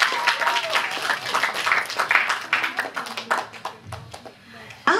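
Children and adults at a New Year party in an orphanage greet Snegurochka with lively, dense applause, many hands clapping together that taper into a few scattered claps. Voices murmur underneath.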